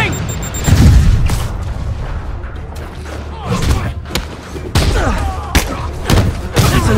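Rocket explosions in the Spider-Man PS4 game: a run of heavy booms and thuds, loud and close, with cracking bursts scattered across the stretch and voices talking between blasts.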